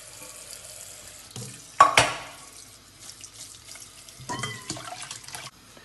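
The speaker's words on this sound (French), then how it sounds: "Je vais mettre maintenant dans l'évier avec de l'eau froide." Cold tap water runs into a kitchen sink over freshly cooked fresh pasta noodles, a steady close splashing with a sharper gush partway through and a brief surge near the end.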